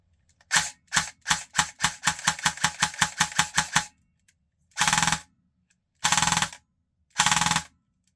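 An LCT AK airsoft gun with a Version 3 quick change gearbox fires a fast full-auto burst of sharp, evenly spaced clacks lasting about three seconds. Three short separate bursts follow after brief pauses. No one talks.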